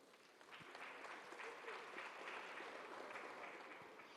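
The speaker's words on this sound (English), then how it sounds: "please help me with a round of applause to welcome them back here to the stage" Faint, distant applause fills a large awards-ceremony hall as a team is welcomed back to the stage, a soft, steady patter of many hands lasting a few seconds with no clear voice above it.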